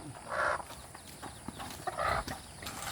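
Native chickens and chicks clucking close by, with two louder bursts of calling and scattered short clucks and peeps between them over a steady low background.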